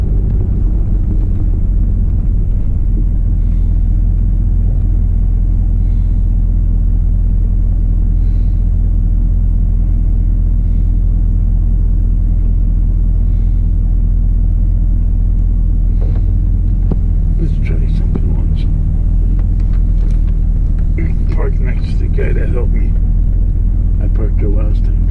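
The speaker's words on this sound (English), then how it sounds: "when you tap it, it does a high idle. See, that's where, see? Then it drops down." A truck engine revs up to a high idle and then settles back down, a loud, steady low rumble heard close by, with a person talking over it.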